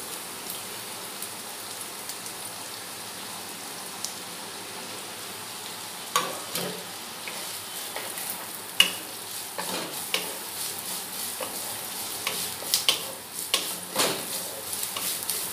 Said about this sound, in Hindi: एगुलो बेश भालोभावे आमी भाजब।